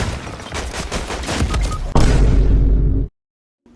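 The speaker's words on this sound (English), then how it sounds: "Shockwave grenades have been a part of Fortnite's history for a very long time." Shockwave grenades go off in Fortnite amid dense gunfire: a rapid stream of loud pops and bursts, then a bigger booming blast that rumbles for about a second before cutting to silence.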